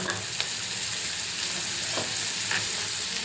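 Green chilies and ginger sizzle in hot oil as they fry for a spicy egg gravy curry, a steady close crackle with a few sharper pops scattered through.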